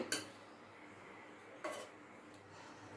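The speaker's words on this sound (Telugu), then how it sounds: "ఇప్పుడు స్పూన్ తీసుకొని ఈ పచ్చిమిర్చి ముక్కలు అన్నీ ఇలా వేసుకోవాలండి" A spoon scoops green chilli and ridge gourd pieces into a stone mortar for gongura chutney, making two or three faint, close metallic taps and scrapes against a quiet background.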